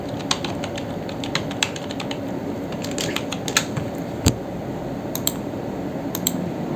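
Keys clatter on a computer keyboard as a word is typed, in quick irregular clicks with a few sharper taps, close and clear over a faint background hiss.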